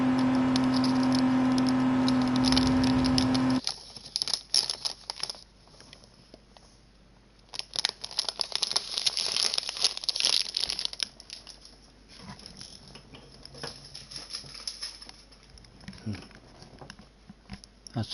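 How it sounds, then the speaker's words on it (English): Orange crunch chocolate being bitten and chewed near the microphone, with crisp crunches and crackly rustling of its wrapper in irregular bursts, following a brief loud steady tone at the start. "a piece of orange crunched chocolate for our crunching viewers, with also a little bit of rustling of the packet"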